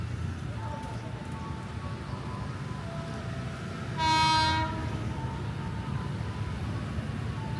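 A 12-car commuter train bound for Bogor passes close by with a steady rumble and rail noise, and a loud horn blast sounds midway through.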